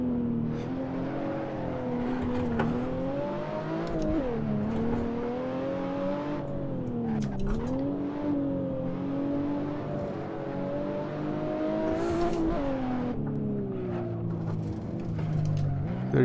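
A BMW 1M tuned to Stage 3 accelerates hard in first gear on a hillclimb course, its engine note droning and rising and falling with throttle changes, loud and continuous throughout.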